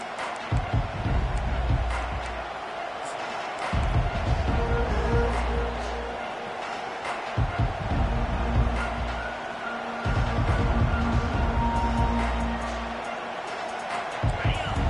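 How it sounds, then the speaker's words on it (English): Loud college football stadium crowd roaring at a Nebraska home game against the Texas Longhorns around the opening kickoff, a dense sustained rumble of cheering that swells in repeated waves, heard under a broadcast commentator's voice. "This crowd trying to show them what it's going to be like all day in this house."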